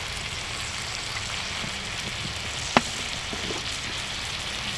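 Continuous sizzle of soy sauce in a hot pan, with a single sharp clink partway through, steady and fairly quiet throughout.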